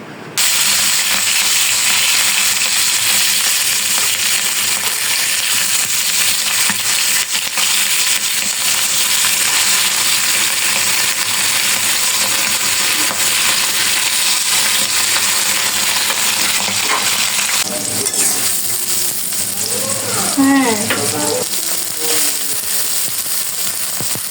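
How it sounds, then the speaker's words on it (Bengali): Hilsa fish fries in a pan with a loud continuous sizzle and crackle, and faint scraping and stirring sounds near the end. "এই চুলায় দেখো আমি এই যে ইলিশ মাছটা ফ্রাই করে নিচ্ছি"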